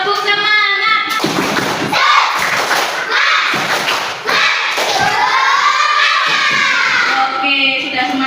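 A class of children does a tepuk semangat spirit clap in a primary school lesson: loud rhythmic claps and thumps with the children's voices chanting along throughout.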